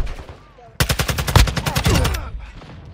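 Rapid automatic gunfire in Call of Duty DMZ, a dense burst of evenly spaced loud shots running about a second and a half before trailing off into quieter game noise, with faint in-game voice chatter before it.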